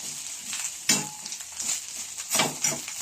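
Food sautés in a small frying pan with seasoning, giving a steady close sizzle broken by a few louder bursts of stirring and scraping, with no talk.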